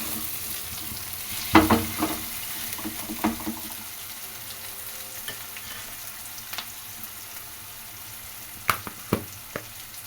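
Grated coconut and raw mango stir-frying in a pan for mango chitranna, a steady low sizzle with a few scraping stirs of the spatula near the start and again near the end.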